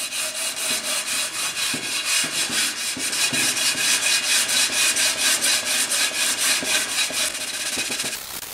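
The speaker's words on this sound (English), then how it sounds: "After hitting it with the sanding block," A 100 grit sanding block scrubs steadily over a curb-rashed Miata alloy wheel, a rhythmic back-and-forth rasp repeating about twice a second, close and continuous with no talking.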